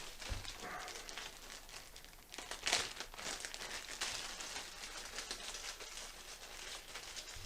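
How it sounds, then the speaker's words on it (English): Someone rummages through a plastic bag of big wire terminals while wiring a Honda CBR400 track bike: soft, continuous crinkling and rustling, quiet and close, with no talking. "let's find our bag of big terminals."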